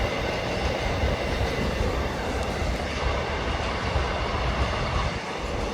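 A passing train rumbles steadily and loudly close by, with a continuous roar of wheels on rail and faint clickety-clack throughout, heard during a rural Maharashtra outing.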